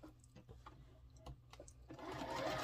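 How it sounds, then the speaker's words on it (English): A sewing machine stitches a quilt block, quiet ticking needle strokes in an uneven rhythm that swell into a steadier, louder whir near the end, with no talking. "So let's bring you over here to the sewing machine and sew her together."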